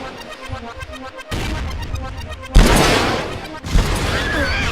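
Weapon fire from the first-person shooter game Cube 2, played as loud, dense bursts of gunshots and heavy booms that run into one another, with a sharp crashing blast near the middle and a noisy, reverberant tail.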